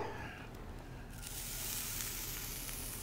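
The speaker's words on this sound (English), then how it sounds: "You have to saute the shallot a little" Shallot sautéing in butter in a pan, a steady close sizzle that swells and brightens partway through, continuous hiss with no talk over it.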